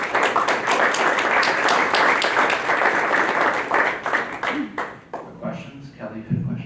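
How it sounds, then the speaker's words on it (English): At a school board meeting, an audience gives a round of applause: a full, loud wash of clapping that thins into scattered claps and fades over the last seconds as a voice begins to speak. "let's give them a round of applause"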